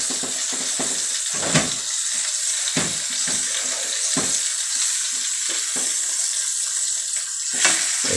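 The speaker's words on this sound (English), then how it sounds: "So flip it around, you get it all nice and brown." Beef for Mexican shredded beef tacos sizzles loudly in a hot pan as pieces are flipped and browned on every side, with a steady frying hiss and repeated scrapes and clicks of turning.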